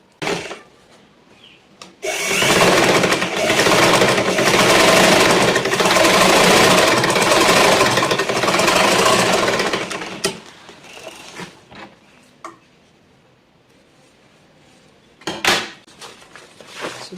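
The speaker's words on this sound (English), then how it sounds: "So I'll finish sewing the dots on the lining." A sewing machine stitches dots onto the lining of a pencil skirt, a steady close whirring burst of about eight seconds, then quiet handling noises and a short second burst near the end.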